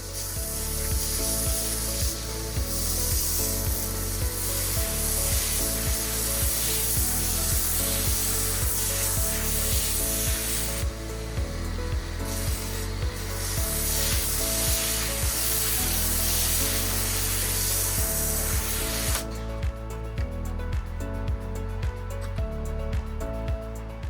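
An MJJC Pro V2 snow foam cannon with a 1.25mm orifice nozzle spraying foam onto a car, a loud continuous hiss of pressure-washer spray with a pump drone underneath, steady for the whole stretch.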